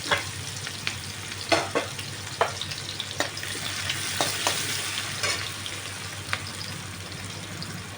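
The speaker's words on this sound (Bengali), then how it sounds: "এবার এই তেলে আমি পেঁয়াজটা ভাজলাম, আঁচটা কমিয়ে দিলাম, পেঁয়াজটা একটু ভেজে নিই।" Sliced onion frying in oil over lowered heat, a steady close sizzle broken by scattered sharp crackles and pops throughout, with no voices.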